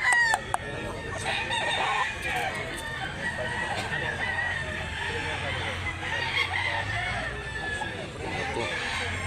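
A rooster crows at a chicken sale in Mantalungon, Barili, Cebu, clear and fairly close against a busy background of other fowl and crowd murmur.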